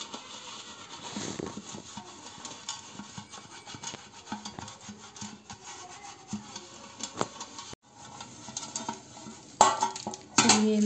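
Ghee being spread around a cake tin for an eggless homemade cake, a steady close scraping and rubbing against metal with light clinks, a few sharper metallic knocks near the end.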